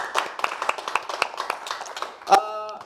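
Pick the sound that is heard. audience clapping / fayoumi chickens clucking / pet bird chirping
audience clapping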